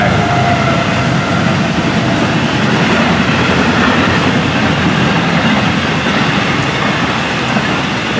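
A Florida East Coast freight train rumbles past nearby in the rain in a steady, dense wash of noise, wheels and rail clatter blending with a constant hiss like falling rain.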